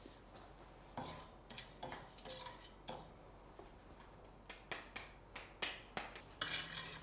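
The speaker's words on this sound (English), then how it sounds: "It's a dry roast. I'm constantly moving it around the pan." Rice dry-roasting in a pan for vegan larb, stirred constantly: repeated sharp scrapes and clinks of a utensil against the pan in an irregular rhythm, close and clear with no talking.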